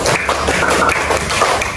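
Hand clapping in a counted classroom rhythm game, a run of quick, sharp claps in a brisk pattern, loud and close, with no voices over the claps.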